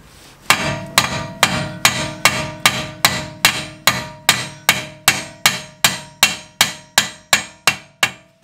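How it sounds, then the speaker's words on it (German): A hammer strikes metal in a steady, even rhythm, about two blows per second, knocking a car drive shaft loose; each sharp ringing clang loud and close, with no voices. "nehmen uns einen Hammer und hauen die einmal ein Stück raus"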